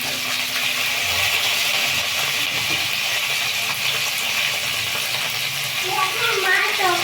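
Watermelon peel fries in a pan with a steady, loud sizzle and hiss that keeps going the whole time, with a little stirring mixed in.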